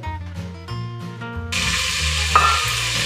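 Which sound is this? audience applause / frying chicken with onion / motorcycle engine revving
frying chicken with onion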